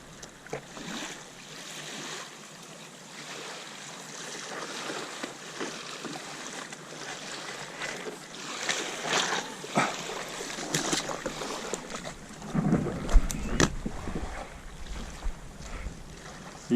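Kayak landing on an island shore through waves, a steady wash of wind and surf with paddle splashes and hull knocks growing louder and closer toward the end.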